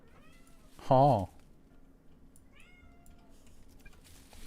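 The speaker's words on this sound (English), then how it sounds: "cat just woke up after their nap" A pet cat just up from a nap lets out one loud, wavering meow in the first second, close by, followed by a softer, brief mew a moment later, with quiet room noise and a short voice in the background.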